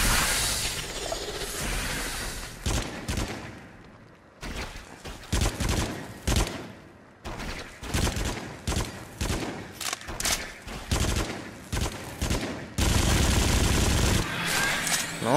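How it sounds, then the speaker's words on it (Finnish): Gunfire from the horror video game Until Dawn rings out in rapid, loud bursts of shots, with clusters of sharp cracks separated by short gaps and a sustained heavy barrage near the end. "Me ehkä ammun molemmilla käsillä."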